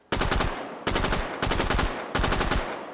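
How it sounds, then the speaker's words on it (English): Four bursts of rapid full-auto fire from a low-recoil weapon in the H3VR virtual reality shooter, loud and close, each burst a tight stream of shots with short pauses between. "this little beauty has almost no recoil. Check it out, full auto."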